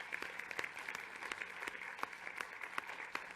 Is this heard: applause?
yes